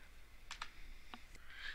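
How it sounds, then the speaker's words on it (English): Keys are pressed on a computer keyboard, a handful of faint, quick clicks in a short burst against quiet room tone. "once you have clicked or hit F7 on your keyboard"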